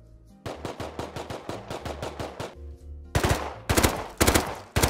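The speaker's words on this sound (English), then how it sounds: "Will you shoot a couple times?" Rapid gunfire in the survival game Rust: a steady automatic burst of about a dozen evenly spaced shots, a short pause, then louder, heavier volleys at close range, with no talking.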